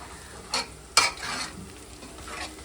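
Onion frying in a pan on a low gas flame, with a soft, quiet sizzle and a couple of brief scraping stir strokes partway through.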